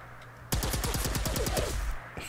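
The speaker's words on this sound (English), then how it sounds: "This is the splitter barrel, which will turn it into like a shotgun. Sort of hose people down with plasma energy." A rapid burst of about a dozen sharp plasma rifle shots with a splitter barrel in Fallout 4, fired in quick, even succession, loud and close, followed by a brief tail and a fainter trailing blast.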